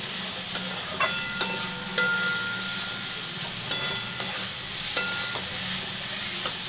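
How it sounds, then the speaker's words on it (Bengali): Onion and potato fry in a pan with turmeric, a soft steady sizzle broken by several sharp metallic clinks of a spatula or spoon against the pan at irregular intervals. "পেঁয়াজ আর আলুর সঙ্গে হলুদ আর নুন দিয়ে ভালো করে আমি ভেজে নেব।"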